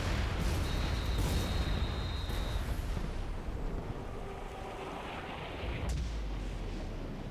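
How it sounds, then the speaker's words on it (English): Dynamite blowing up an outpost in The Saboteur video game, a sustained heavy rumbling blast with low roar and crackle continuing for several seconds, fairly loud throughout. "we place dynamite"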